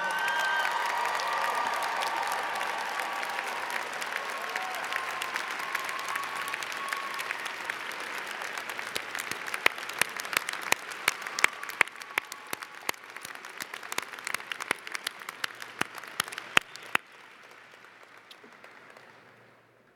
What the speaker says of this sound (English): can we have another round of applause for this amazing class?